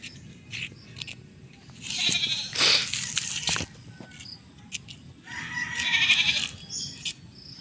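Goats bleat outdoors in a Philippine yard, two loud drawn-out cries close by separated by a pause, over a steady background hum with a few faint knocks and rustles.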